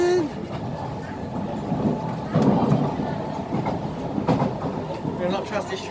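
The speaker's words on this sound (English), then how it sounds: "Okay. Train gonna stop." An SMRT C151A metro train rumbles along the rails with rhythmic clacking and rattling, close and fairly loud, with faint voices in the background.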